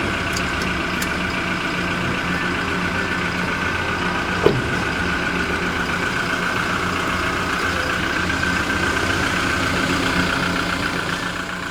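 A 2500 cc diesel engine runs at a steady, loud idle after being started with a modified BMS battery pack, with a continuous rumble, one brief click partway through and no talking.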